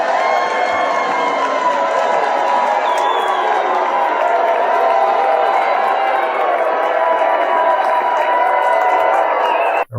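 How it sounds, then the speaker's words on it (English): A large audience at the Kennedy Center reacts to Donald Trump with a dense, sustained roar of crowd noise, loud and unbroken throughout, cheers and boos blending into one wall of sound. "Just to give you another angle, so you can see if Donald Trump was getting booed or cheered."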